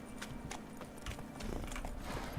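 Horse hooves clip-clop on the ground in a medieval fantasy video game set in Velen, a steady trotting rhythm of sharp close hoof strikes over faint ambient game sound, with no talk.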